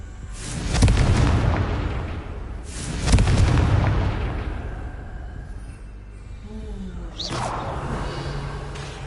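Two heavy booming blasts from the Confringo fire spell in the Hogwarts Legacy video game, each a deep rumbling burst that slowly decays, followed by quieter game ambience with a brief voice-like tone near the end.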